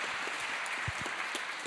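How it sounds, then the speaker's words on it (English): Quiet, even applause fills a large university hall during a car unveiling, a soft wash of many hands clapping with a couple of low thumps near the middle. "can we have a round of applause for them?"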